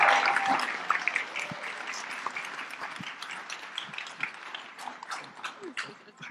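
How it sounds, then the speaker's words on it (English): Audience applause at a leadership institute startup demo day, a dense patter of hand claps sustained for several seconds in a medium-sized room, fairly close and steady, fading slightly toward the end. "Give him a round of applause."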